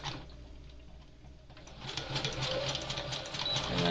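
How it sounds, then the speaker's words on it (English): A sewing machine runs a zigzag stitch while a skirt is sewn, whirring and rattling rapidly and steadily, growing louder and busier partway through, with no talking. "you're just going to run over it a couple of times with the zigzag stitch so that it stays in place"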